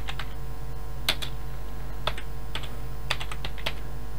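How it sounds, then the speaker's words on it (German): Keys clatter on a computer keyboard in sparse, uneven bursts, a few sharp clicks clustered together with pauses between, close and moderately loud over a steady low hum, with no talking. "ich brauche echt eine andere Tastatur, ich verdrück mich hier immer"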